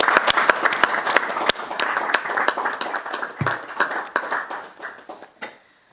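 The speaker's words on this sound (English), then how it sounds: "Let's give them a round of applause." At a city council meeting, a modest group claps, distinct individual claps rapid and crisp, gradually thinning and fading to silence by the end.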